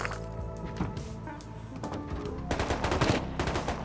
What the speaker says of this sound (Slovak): Nejako sa začalo strieľať.